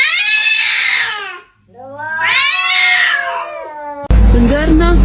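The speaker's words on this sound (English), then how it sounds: "he closed the cat in the kennel" A cat shut inside a kennel meows loudly in two long drawn-out wails, followed by a brief rattling clatter at the end.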